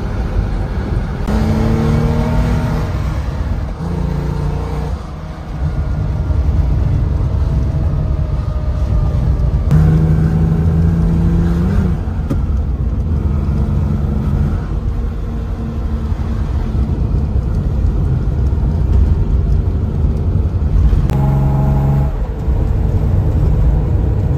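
Restored classic Porsche driving, engine droning loud and close with repeated gear changes and revving rising and falling, with no talking.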